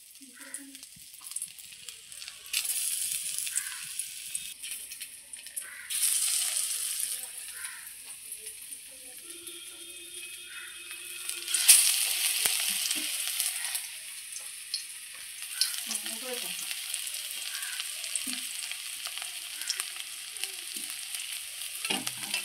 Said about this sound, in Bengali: আমার তেল গরম হয়ে গেছে, আমি এক এক করে কড়াইয়ে ছেড়ে দেব।